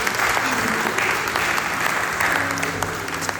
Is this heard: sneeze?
no